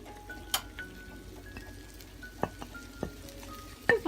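Mushrooms frying in two spoonfuls of butter in a pan, with a soft low sizzle, scattered pops and a few light clinks of a utensil against the pan.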